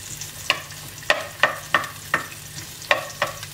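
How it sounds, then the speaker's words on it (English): Onion being stirred in a hot pan, heard as a soft sizzle under seven or eight distinct scraping clacks of the utensil at an uneven, unhurried pace, close and fairly quiet. "So we'll just saute this a little bit."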